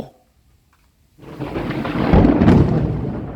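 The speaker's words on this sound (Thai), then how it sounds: "ฟ้าร้องขนาดนี้จะอยู่ทำไม" A thunderstorm at home in the evening: after a near-silent second, a heavy roll of thunder swells in and rumbles loudly for a couple of seconds, with rain hiss underneath and no voices.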